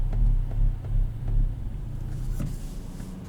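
2021 Kia Forte GT with a six-speed manual gives a few quick throttle blips, short rhythmic swells of low engine rumble heard from inside the cabin, fairly quiet and settling into a steady drone.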